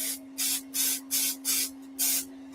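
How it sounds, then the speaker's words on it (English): Aerosol spray can firing onto a skull, five sharp hissing bursts in a steady rhythm with short gaps, close and moderately loud, a steady electrical hum underneath. "Let's quickly pop a spray on this."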